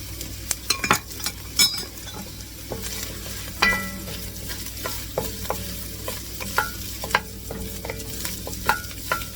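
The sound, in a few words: adding rice to pot with garlic, sizzling and stirring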